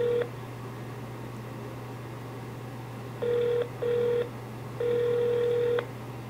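Phone line tone followed by repeated ringback beeps in short and long bursts while calling a jail extension, clear and close over a steady low hum, with no talk.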